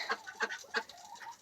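Small farm ducks quack and cluck close by in a quick burst of several short calls, without any talk.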